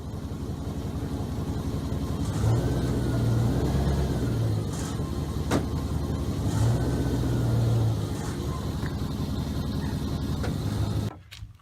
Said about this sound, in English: back the truck down the ramps